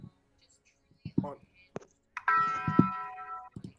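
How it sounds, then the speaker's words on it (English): A bell rings once with a bright, sustained tone, close and fairly quiet, amid soft murmuring and faint clicks. "The bell."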